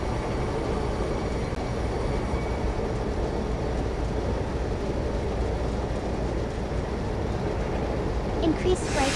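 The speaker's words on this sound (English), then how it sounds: "Slowing the train down quickly before entering a tunnel segment." A train slows inside a tunnel with a dense, continuous low rumble and steady wheel and track noise, close and loud throughout.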